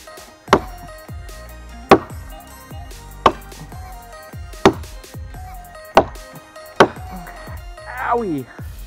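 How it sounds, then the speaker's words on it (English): A Cold Steel Trail Boss axe bites into a standing tree as it is chopped down by hand: six sharp, evenly spaced thwacks ring out about every 1.3 seconds, close and loud, and a brief creak follows at the end. "I'm just chopping down a tree."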